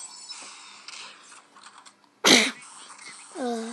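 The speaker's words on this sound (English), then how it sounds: "I'm gonna sneeze." A single sharp sneeze bursts out partway through, loud and close, after quiet sounds of play during a card game, with a brief voice following.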